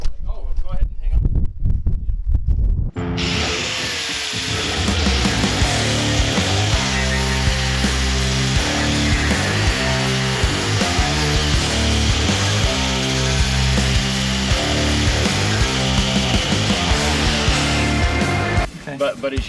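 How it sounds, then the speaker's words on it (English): An angle grinder grinds away delaminated fiberglass on a damaged sailboat under repair, starting after a few seconds of quiet handling and then whining loudly and steadily close by before cutting off at the end. "I'm gonna grind that away"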